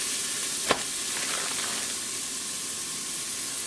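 Chili ingredients, onion and celery among them, sizzle steadily in an Instant Pot while being stirred, giving a close, even frying hiss with one sharp scrape or clink near the start and no talking.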